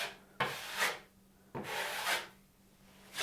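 A small drywall knife scraping over screw heads in a basement bathroom drywall job: two close, raspy strokes, each opening with a sharp scrape and then swelling and fading, with a faint steady hum behind them.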